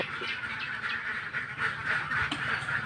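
Khaki Campbell ducks on a small farm quack repeatedly and fairly close, a dense overlapping flock calling steadily with no voices.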